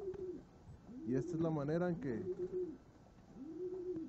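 Meuleman Dubois racing pigeons coo softly in breeding cages, a few rounded low calls rising and falling around someone speaking Spanish.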